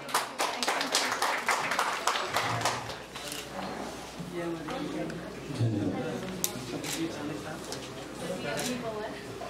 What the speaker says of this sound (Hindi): तालियों के साथ स्वागत करते हैं सभी का